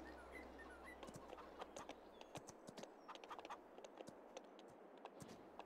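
Horse hooves in the Farming Simulator 22 video game, a steady clip-clop of sharp hoof strikes on firm ground, fairly close and moderate in level, with a soft low hum underneath.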